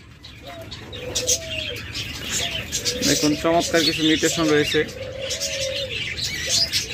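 Lovebirds and doves at a bird market chirp and coo close by. Short repeated coos and bright chirps continue throughout, and someone talks over them.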